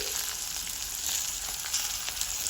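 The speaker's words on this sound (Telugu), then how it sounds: "ఈ పచ్చిమిరపకాయలు అయితే నూనెలో మంచిగా మగ్గిపోయాయండి" Green chillies sizzle in hot oil in a pan, a soft, steady crackling hiss with no talk over it.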